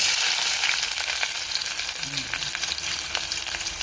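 Onions frying in hot oil with fenugreek seeds for a sweet potato tamarind curry, a loud continuous crackling sizzle with brief stirring clinks, close and alone.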